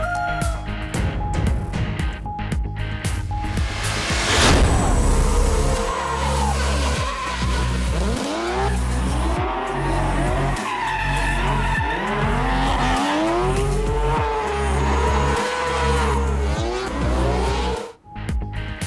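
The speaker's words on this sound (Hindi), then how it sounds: "Cholistan desert jeep rally stock category का आगाज हो गया।" Jeeps in the stock category of the Cholistan Desert Jeep Rally race across Pakistani desert, engines roaring and revving loudly and continuously with repeated rising and falling passes close by, no speech.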